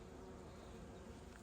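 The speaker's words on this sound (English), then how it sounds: "Lots of bees." Bees buzzing steadily among garden plants at a castle garden in Ireland, a continuous low hum of several insects close by with no voices.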